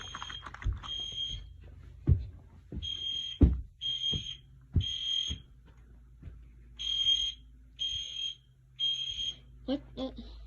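Fire alarm sounding in a school building, a loud repeating electronic tone in short bursts with gaps, cycling through about ten seconds while a person talks over and between the pulses.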